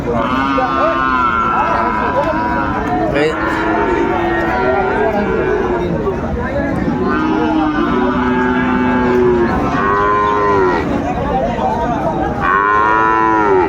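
Friesian and crossbred bulls and calves moo loudly and repeatedly over a noisy cattle-market crowd, several animals lowing close by while people talk throughout.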